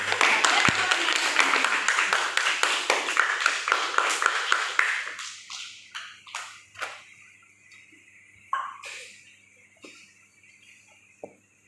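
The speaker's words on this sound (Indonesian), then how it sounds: "Kasih tepuk tangannya dong." Classroom group clapping at a teacher coaching session, a dense burst of applause that thins out over several seconds into a few scattered claps, with faint voices and background noise.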